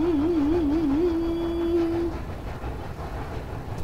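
Train in the Roblox video game, a steady horn-like tone with a wavering start sounding for about two seconds over rolling rail rumble, which continues alone after the tone stops.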